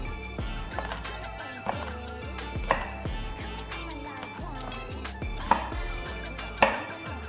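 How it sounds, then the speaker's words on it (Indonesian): A knife chops red chili peppers on a board in a home kitchen while rawon is cooked, giving a steady run of sharp close taps with a few louder knocks and no talk. "Kita potong-potong ya."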